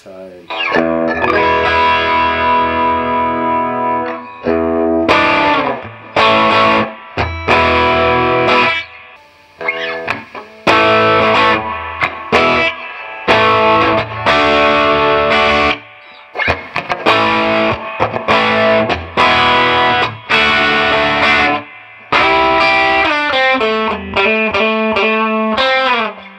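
Electric guitar played through an Artist Guitars Green Scream overdrive pedal, a very small tube-screamer-style unit, giving loud, continuous driven chords and riffs with brief pauses between phrases.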